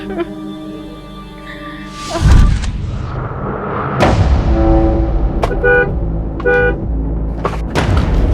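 Car horn honking at a vehicle parked in the middle of a road, several sharp toots of varying length over street noise and a thump, loud and close.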